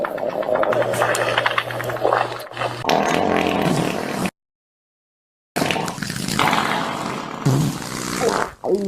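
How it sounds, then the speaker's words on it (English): A pooping and farting sound effect plays: loud, wet, sputtering fart noises and splashy squelches in two bursts separated by a second of silence, close and with no talk. "this is how the pooping and farting sound effect sounds like"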